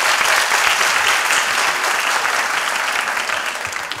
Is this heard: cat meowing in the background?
no